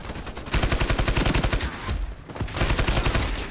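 Light machine gun fire in the shooter game Ironsight: a loud, close, sustained burst of rapid evenly spaced shots, briefly thinning mid-stream before the stream of rounds resumes.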